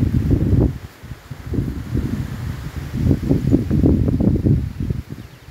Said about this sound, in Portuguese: as árvores ficam tudo alegre balançando,